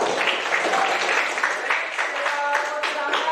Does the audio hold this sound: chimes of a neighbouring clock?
no